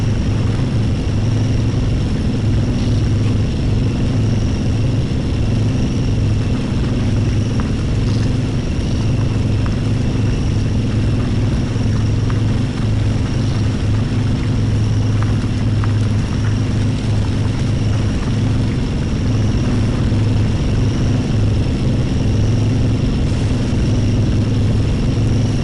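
A heavy off-road truck in MudRunner runs at night with a steady, droning engine rumble, low and continuous at a constant level, near and unbroken for the whole stretch with no talk.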